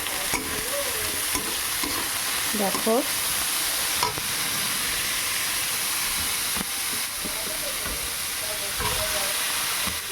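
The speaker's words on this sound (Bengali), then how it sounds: "এবার আমি একে একে বিনস আর গাজরটা একসাথে ভেজে ফেলবো" Beans and carrots fry together in a kadai, sizzling and hissing steadily while a spatula scrapes and stirs them in repeated strokes, with a brief spoken word over the cooking.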